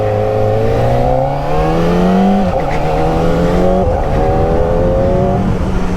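Kawasaki Ninja ZX4RR motorcycle engine while riding on the road: a loud, high-revving whine that climbs steadily through the gears, with brief dips at the shifts, heard close and alone with wind noise.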